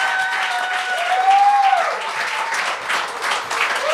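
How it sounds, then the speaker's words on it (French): Audience applause for comedian François Doyon on a televised Gong Show stage, a loud, dense, steady wash of clapping that holds throughout, with a faint tone rising and falling over it. "un tonnerre d'applaudissements pour François Doyon"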